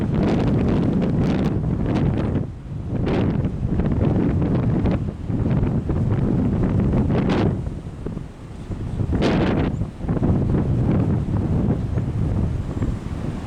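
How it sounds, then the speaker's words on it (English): Strong gusts buffet the microphone on a beach during a tornado watch, with surf rolling in underneath, a loud continuous roar that swells and dips over several seconds. "We've had high winds"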